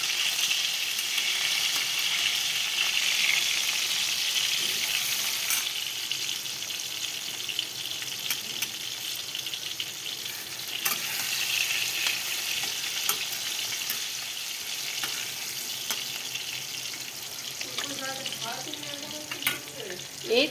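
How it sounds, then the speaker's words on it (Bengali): Pointed gourd (potol) slices fry in a pan with a steady, close sizzle and hiss throughout, plus a few light stirring scrapes near the end. "পটল ভাজা হবে।"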